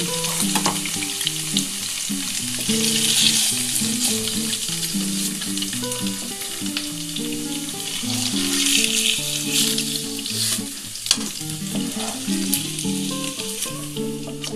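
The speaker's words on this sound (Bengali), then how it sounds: "ওই তেলেই পেঁয়াজটা ছেড়ে দিলাম" Onion sizzles and crackles steadily in hot oil in a pan for chilli paneer, a loud constant frying hiss with occasional stirring under soft background music.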